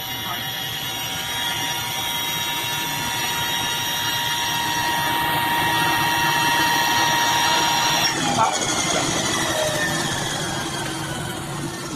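The electric motor of an Eliica electric car spins up past 8,000 RPM with a loud, steady, high tonal whine that climbs in pitch. The whine shifts abruptly late on and continues with a roaring mechanical hum beneath it.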